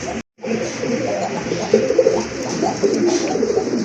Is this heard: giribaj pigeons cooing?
yes